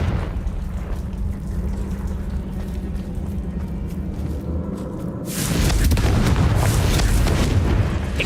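A Confringo fire spell explodes in Hogwarts Legacy, the blast breaking into a loud, sustained roaring rumble after a few seconds of low, steady ambient drone.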